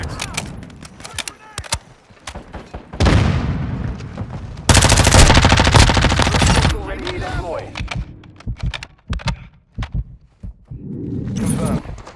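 Loud automatic gunfire bursts in Call of Duty Modern Warfare II, heavy sustained volleys alternating with single shots and scattered pops, with radio-style voices talking between the bursts.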